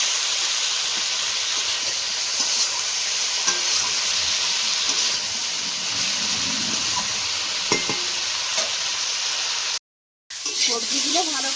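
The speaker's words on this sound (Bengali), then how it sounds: "সবজিগুলো ভালো করে কষিয়ে নিয়েছি" Mixed vegetables sauté in a pan, giving a continuous loud sizzle with faint scraping of stirring throughout, broken by a brief silence near the end.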